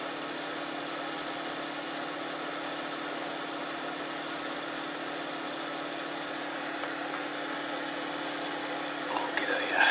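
A Bedini SSG pulse motor runs steadily, giving a constant, even electrical hum with a buzzing edge that holds the same level throughout, close by, with a slight rise of rattly noise at the very end.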